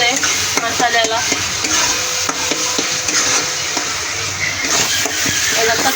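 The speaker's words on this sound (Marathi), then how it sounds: "याला चांगलं तळायचं आहे मसाल्याला" Cooked rajma tossed in tomato-puree masala and oil, frying with a steady sizzle while a spoon scrapes and stirs the pan, close and constant.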